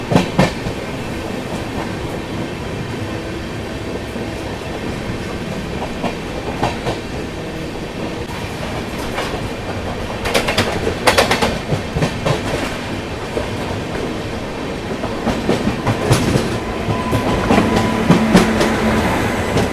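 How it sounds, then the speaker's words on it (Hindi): A Garib Rath Express with LHB coaches rolls along the rails, a continuous loud rumble with rhythmic clickety-clack bursts over wheel joints, heard from on board. "संगम सिटी प्रयागराज के प्लेटफॉर्म नंबर 4 पे अपना अराइवल हो रहा है।"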